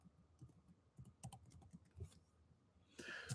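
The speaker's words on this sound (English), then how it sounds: "I am typing off screen" Someone types on a computer keyboard, quiet close clacking in irregular bursts of keystrokes, ending in a louder flurry.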